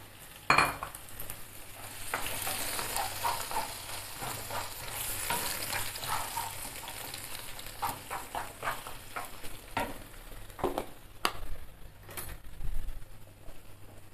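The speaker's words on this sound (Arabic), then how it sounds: "تنديها شويه هكا في الزيت بلا ما تحرق لينا وتنزيدوا عليها هاد الفلافل" Spices and peppers frying in oil for a cold zaalouk, a soft steady sizzle with repeated scraping stirs and occasional utensil clinks against the pan, close but fairly quiet, no talking.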